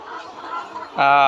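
Layer hens on a farm make a murmur of soft sounds, then one loud, harsh cluck or squawk close by near the end.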